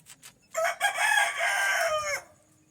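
A chicken on a household rooftop gives a loud, close, drawn-out call lasting about a second and a half, with a few softer clucks just before it and no talk.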